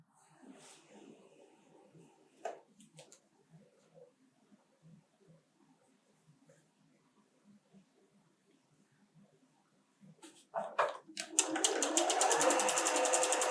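A sewing machine stitches the seam of a quilted table runner, starting after scattered quiet handling noises and then running steadily and close for the last few seconds.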